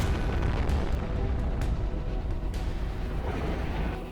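Bomb explosions in the naval combat game Modern Warships: a dense, continuous roar of heavy booms and rumbling blasts, loud and close throughout, with no talking.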